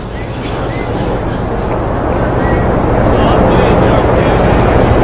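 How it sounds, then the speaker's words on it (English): A SpaceX Falcon 9 first stage fires its center engine for the landing burn on approach to Landing Zone 1, a distant, steady broadband roar that builds slightly in loudness, mixed with wind buffeting. "There's that landing burn."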